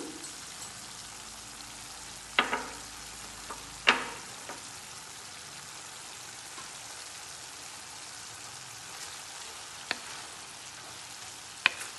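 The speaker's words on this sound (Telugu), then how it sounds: "ఇప్పుడు కచ్చా పచ్చగా దంచుకున్న వెల్లుల్లి వేసుకుందాము" Crushed raw garlic fries in a pan for curry, a soft, even sizzle with a few sharp clatters from a utensil against the pan.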